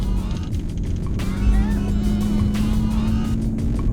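Bi-turbo V12 engine and exhaust of a Renntech-tuned Mercedes-Benz CL65 AMG, a steady loud drone with a rising surge partway through, heard from close by while the car drives through turns.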